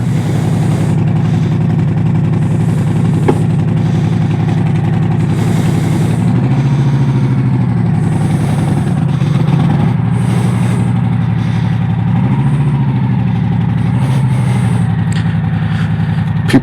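A motorcycle engine idles and runs steadily up close, a continuous low rumble with slight rises and dips in pitch, heard without any talking.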